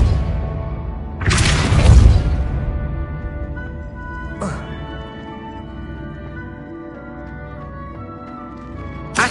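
A repelling spell cast in Hogwarts Legacy, a loud booming, shattering burst that swells and slowly fades, followed by a short sharp crack a few seconds later and another at the very end.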